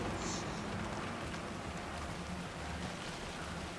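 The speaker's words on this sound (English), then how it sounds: "it's raining" Steady rainfall in the video game Alan Wake 2 hisses evenly throughout, a constant wash of drops with no voices.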